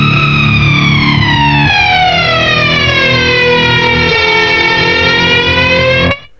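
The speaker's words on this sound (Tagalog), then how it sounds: "hindi ko ginagamit ito as a normal flanger na parang ganito" A heavily flanged electric guitar through a Flamma FC05 modulation pedal, producing a loud sustained sweeping tone with swirling pitch glides like a siren, ending abruptly.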